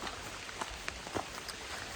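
Steady rain patters on a campsite in the early morning, a dense hiss broken by a few louder, sharper drops, heard close and without talk.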